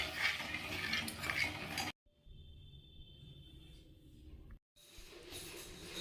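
Green pea paste mixed with sugar being stirred in a kadai, heard as two close bursts of scraping and clattering separated by a quiet pause.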